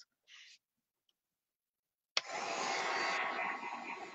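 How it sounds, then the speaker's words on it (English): A handheld heat gun blows steadily on wet satin paint, a loud continuous whooshing hum that switches on abruptly after a brief earlier burst and a quiet pause. "Okay, I'm going to use the heat gun."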